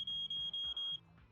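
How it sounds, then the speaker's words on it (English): A fire alarm beeps in a rapid, evenly spaced series of four piercing electronic tones, heard indoors at moderate distance with no voices over it. "Whose fire alarm is going off?"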